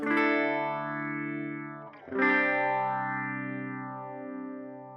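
Sustained guitar chords swirl through a sweeping phaser effect from a Line 6 HX One, the tone sliding up and down in slow waves, with a fresh strum midway.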